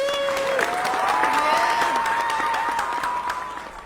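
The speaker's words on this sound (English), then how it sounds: "give a big round of applause for Leslie Paalan and Karena Santa Cruz" Audience on a talk show applauds two society presidents as they arrive, a steady wash of clapping and crowd noise with a sustained tone running over it, easing off near the end.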